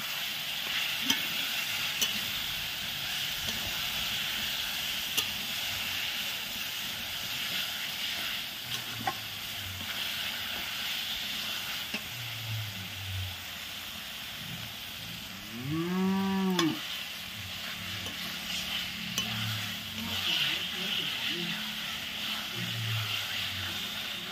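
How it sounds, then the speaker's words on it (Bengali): Marinated chicken goes into spice masala in a pan, giving a low continuous sizzle with occasional clatter, while a cow moos loudly partway through and lower lowing calls sound intermittently around it. "তখন ম্যারিনেট করা চিকেনগুলো দিয়ে দিলাম"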